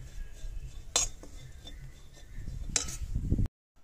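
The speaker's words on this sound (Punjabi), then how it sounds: "ਤਾਂ ਤੁਸੀਂ ਚੰਗੀ ਤਰ੍ਹਾਂ ਜਿਹੜਾ ਹਿਲਾਉਂਦੇ ਹੋਏ ਇਸ ਤਰ੍ਹਾਂ ਬੇਸਣ ਨੂੰ ਭੁੰਨਣਾ ਗਾ।" Gram flour (besan) roasts in a pan with a dry, soft shuffling under a low hum, punctuated by two crisp metallic clinks of a spoon against the pan before the sound cuts off.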